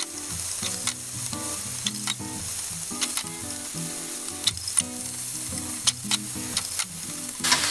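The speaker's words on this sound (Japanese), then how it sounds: "このきくらげ入りミックス野菜、これ炒めていきましょう。" Mixed vegetables with wood ear mushrooms stir-fry over high heat in a pan for Chinese-style yakisoba, with steady loud sizzling and repeated scraping, clattering strokes of the spatula, no voices.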